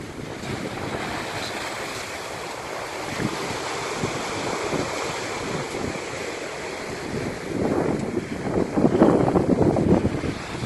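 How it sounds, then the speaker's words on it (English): Ocean waves surge against a sea wall of large concrete blocks at Coffs Harbour, a steady broad wash under gusting wind noise that swells louder toward the end. "I can hear the force of the waves behind there."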